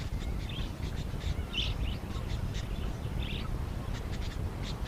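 Chattering calls of many budgerigars gathered in trees along flooded rivers in inland Australia, a steady dense twittering with brief louder chirps scattered throughout, fairly distant and continuous.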